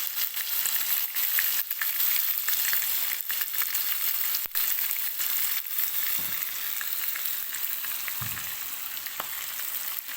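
Alexandrian-style liver fries in a pan with a steady, dense sizzle throughout, close and fairly loud, with occasional stirring clicks and no talk.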